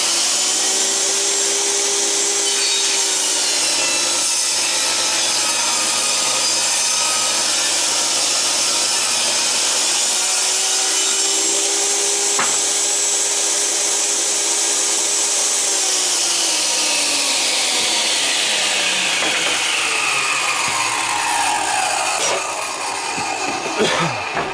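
A table saw cuts wood for shelf gussets in a wood shop, a loud steady whine held for many seconds as the blade runs, then a falling spin-down as it slows.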